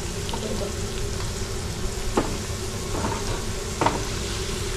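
Prawns deep-frying in hot oil for prawn pickle, a steady close crackling sizzle with a few louder bursts as the pieces are stirred or lifted out.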